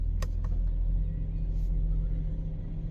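A crashed Mercedes-Benz car idles steadily after being shifted back into park, a low continuous engine rumble close by with a couple of faint clicks near the start.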